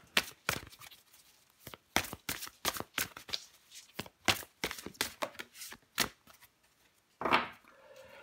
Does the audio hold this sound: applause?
no